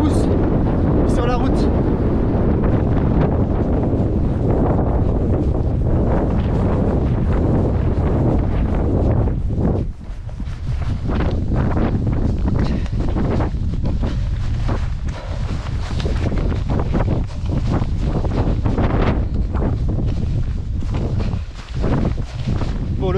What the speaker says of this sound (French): Il y a tellement de vent, ça nous pousse sur la route.